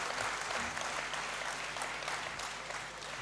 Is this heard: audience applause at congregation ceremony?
yes